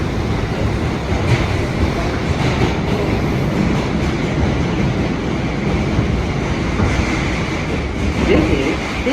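An R160A M local train on the New York City subway running between stations, heard from inside the car as a loud, steady rumbling roar with rail clatter, continuous throughout.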